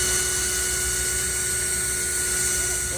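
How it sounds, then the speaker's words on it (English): A power drill whines steadily as it bores holes marked from a template, a loud, continuous high-pitched motor drone with constant tone over three seconds and no voices. "Now we're going to start drilling all of those holes we made with our template."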